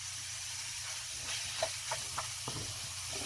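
Ground meat browns in a hot pan for tacos, giving a steady, close hiss and sizzle with a few light clicks and scrapes of stirring over it.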